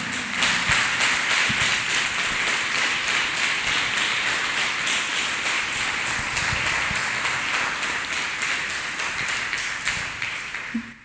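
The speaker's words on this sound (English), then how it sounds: "Let us clap our hands for Jesus" Church congregation clapping hands together in worship, a steady dense patter of many hands sounding continuous and fairly loud throughout, with faint voices underneath.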